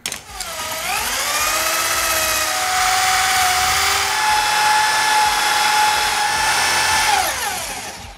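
A drill bores a one and a quarter inch hole in wood for a desk caddy. The motor whines up in pitch, holds a loud, steady buzzing drone for about six seconds, then winds down.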